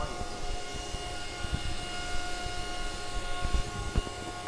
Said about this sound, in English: The miner is starting.